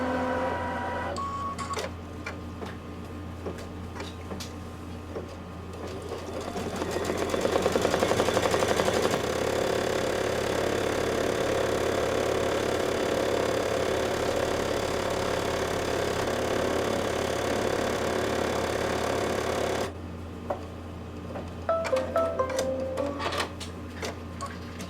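An embroidery machine stitching a placement line on batting runs steadily and loudly with a droning, rhythmic mechanical hum, pausing briefly near the end before restarting with clicks.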